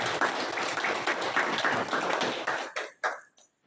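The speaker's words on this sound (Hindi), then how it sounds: "मैं पुनः आप सभी का जोरदार तालियों से स्वागत करना चाहता हूँ" Indoor audience at a monthly team meeting in Gariyabandh clapping loudly in welcome, dense close applause that thins into a few scattered claps and stops.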